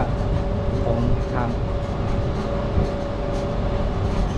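An electric tram rolls through the Si Satchanalai historical park with a continuous rumbling, train-like drone and a faint steady tone, while a person talks over it.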